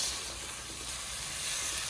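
Cauliflower frying in an iron wok over a home cooking fire, a steady close broadband sizzle hissing evenly throughout with no talk.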